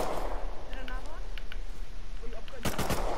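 Gunfire in Rust, a quick burst of loud, close shots near the end, over a noisy backdrop with faint chatter and game sounds.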